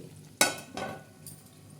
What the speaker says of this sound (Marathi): आता आपण त्याच्यावर झाकण ठेवू